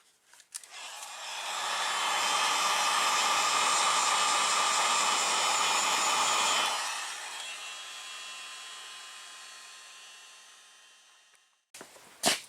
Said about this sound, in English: You can get your heat gun and heat it up some.